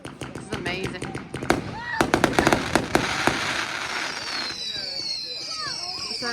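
Fireworks exploding at a bonfire night show, a dense run of loud, sharp bangs and crackling bursts overlapping one another, with whistling rockets and sustained fizzing toward the end while voices talk and react underneath.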